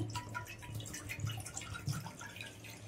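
Two cups (about 250 ml) of water poured into a pan in a home kitchen while making semolina (suji) balls, a steady, moderately loud splashing and trickling that runs without a break and with no talking.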